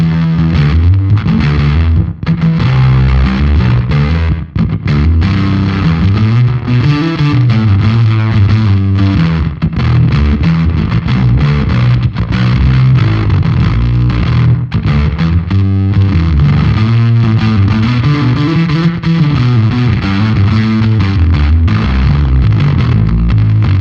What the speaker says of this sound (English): Cool, I like it with that little bit of slapback, almost like a little bit of like reverb without having a bunch of mud.